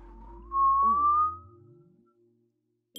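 A person whistles one clear rising note that lasts under a second, close and alone, over a faint background hum in a Minecraft game session.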